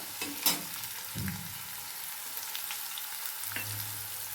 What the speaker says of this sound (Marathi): कांदा पण छान हलवून घ्यायचा आहे आपल्याला कांदा जरा सॉफ्ट झाला ना